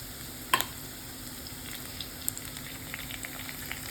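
Onion sautéing in a pan with crushed garlic and ginger, a steady faint sizzle and crackle with a couple of sharp clicks of stirring, no voices.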